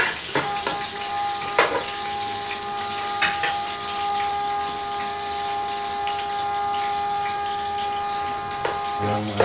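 Onion and garlic sizzle in a hot pan, a steady bright frying hiss with occasional stirring scrapes, close and continuous throughout.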